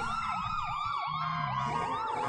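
Police car sirens in the FiveM video game wail and yelp in overlapping cycles, one tone switching partway through, loud and continuous with no talking.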